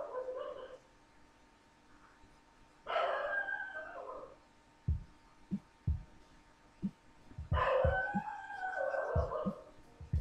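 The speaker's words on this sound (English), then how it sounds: "I think you can hear my dog howling for some reason." A dog howls in three drawn-out, wavering bursts spaced several seconds apart, with scattered low thumps and knocks in the gaps between them.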